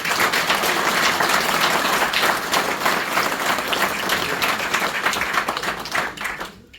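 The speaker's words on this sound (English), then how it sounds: "deserves a round of applause" Warm, sustained audience applause at a golf club event, many hands clapping densely and loudly together for several seconds before tapering off at the end.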